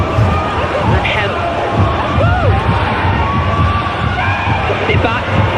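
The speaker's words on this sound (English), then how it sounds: "You can hear the crowd excited whenever the ball is at the feet of Vivianne Miedemar" A stadium crowd at a Women's Super League football match rises in excited cheers and yells as Manchester City's Vivianne Miedema gets the ball, a dense continuous roar of many voices with a commentator talking over it.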